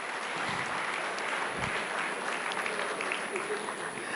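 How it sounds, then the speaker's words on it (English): Conference audience applauding at a South African investment event, a dense, steady wash of clapping from a large crowd lasting the whole stretch, fairly close and even in level. "Let's give him another round of applause."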